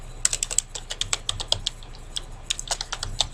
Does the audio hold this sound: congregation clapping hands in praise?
no